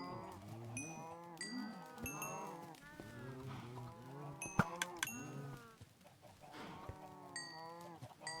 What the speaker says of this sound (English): Let's feed the cows.